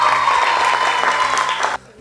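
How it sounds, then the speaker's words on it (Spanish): Audience applause at a children's singing competition rehearsal for a semifinal, a dense steady wash of clapping with a sustained tone over it, cutting off abruptly near the end. "¡Un aplauso!"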